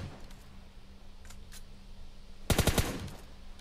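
Gunfire during PUBG Mobile shooting practice in the video game: a tight burst of about four rapid automatic shots cracks out loudly after a quiet stretch with faint background game ambience.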